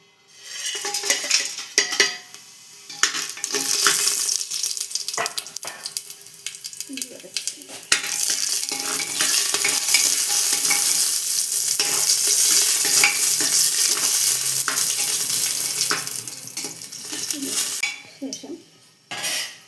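Whole spices, cinnamon, cloves, cardamom, black pepper and fennel, sizzle in a hot pan while being stirred, with a steady frying hiss, scraping utensil taps and occasional pan clinks.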